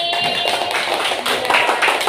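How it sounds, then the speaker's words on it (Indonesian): Classroom audience applauding at an Indonesian religious lesson, a dense, steady wash of many hands clapping together, fairly loud and continuous for about two seconds. "Tepuk tangan untuk hari ini."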